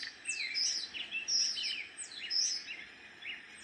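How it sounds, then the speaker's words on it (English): Outdoor birds chirp and whistle in repeated bright bursts on a snowy March day, fairly faint and distant with no voices. "and lots of birds out there too."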